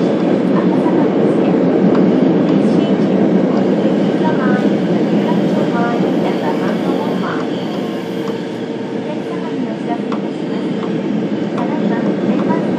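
Tokyo Metro Marunouchi Line 02 series train with upgraded VVVF (PMSM) drive, running steadily between stations; a continuous loud interior rumble of wheels and motors that dips slightly midway and swells again.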